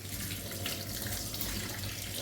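Crab being washed under a running kitchen tap, a steady close hiss of flowing water splashing into a sink, continuous and unbroken with no talking.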